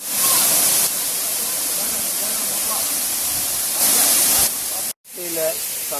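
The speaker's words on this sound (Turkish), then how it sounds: "Çok güzel bir şelale, çok güzel bir gün geçirdik." Rushing, hissing waterfall at Çokran Mavi Göl in Kahramanmaraş, a steady loud wash of falling water with brief surges, ending in a short cut before the flow resumes under faint voices.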